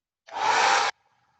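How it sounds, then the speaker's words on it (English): A hair dryer drying a watercolor painting switches on and blows steadily with a whirring hiss for about half a second, then cuts off abruptly, leaving a faint hum. "I'm going to dry this with a hair dryer"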